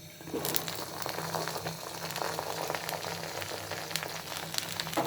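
Garlic cloves sizzle and bubble in hot mustard oil inside a clay pot, a steady soft crackling fry with scattered sharper pops, fairly faint and continuous.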